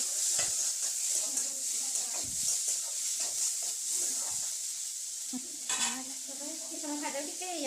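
Turmeric and salt are stirred around a hot frying pan, with a constant sizzle and hiss, scraping strokes of the spoon, and a voice briefly audible toward the end.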